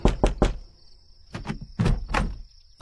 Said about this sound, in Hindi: दरवाजे पर एक दस्तक हुई।